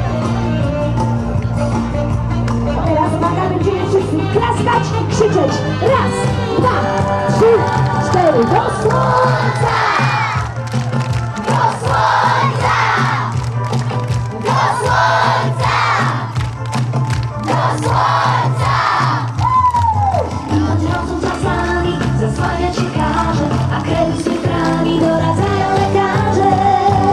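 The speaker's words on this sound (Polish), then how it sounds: "będziemy wszyscy klaskać i krzyczeć" Festival crowd at a hunting-music festival in Warcino clapping and shouting together, loud and close, with bursts of rhythmic shouts over steady music and a voice leading the crowd.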